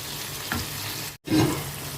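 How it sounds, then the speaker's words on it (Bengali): Half a cup of water poured into a hot pan holding green chilli sauce and soy sauce, a steady sizzle broken by a brief cut, then a louder hissing burst as the liquid hits. "এর মধ্যে 1/2 কাপ জল দিয়ে দিলাম"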